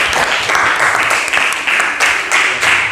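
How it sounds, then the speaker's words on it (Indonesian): Loud applause from students in a classroom for a student group after a presentation, dense clapping swelling in rhythmic waves and heard close up. "kita berikan tepuk tangan untuk kelompok"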